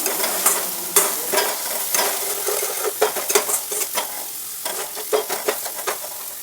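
Spices fry in hot oil in a pan, a crackling sizzle broken by repeated scraping strokes of a spoon stirring in an uneven rhythm.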